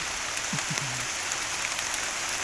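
Steady rain hisses down in an outdoor mushroom-foraging spot, an even wash of drops throughout with a few brief low creaks or knocks near the start.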